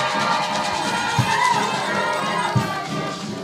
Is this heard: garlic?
no